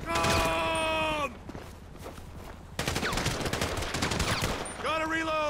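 Rapid bursts of automatic gunfire in Grand Theft Auto V, loud and close, broken by a short lull and a groaning voice, then resuming in dense volleys.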